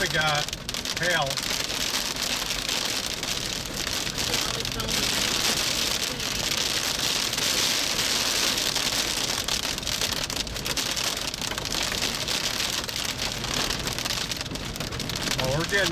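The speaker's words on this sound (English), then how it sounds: "Now we got hail." Hail and heavy rain pounding during a storm chase in Illinois, a dense, loud, continuous drumming roar on the vehicle, with brief voices from people inside early on.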